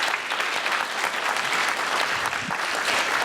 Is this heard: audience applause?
yes